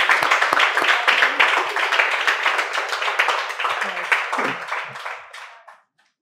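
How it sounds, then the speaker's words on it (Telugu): Students at a makeup studio and academy in Vijayawada clap loudly and steadily to welcome a guest, dense applause that thins and fades out near the end, with a few voices mixed in. "గట్టిగా వాళ్ళ స్టూడెంట్స్తో పాటు నేను కూడా చప్పట్లతో ఆహ్వానిద్దాము."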